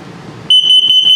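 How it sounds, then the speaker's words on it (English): A carbon monoxide and LP gas detector in a 2021 CrossRoads Zinger 331BH travel trailer runs its self-test, giving a loud, steady high-pitched alarm tone that pulses rapidly, coming on abruptly after a short stretch of low background noise. "So I'm going to run it through the self-test."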